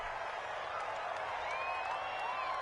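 Stadium crowd noise in a football video game, a faint, steady wash of distant crowd murmur and cheering that continues throughout.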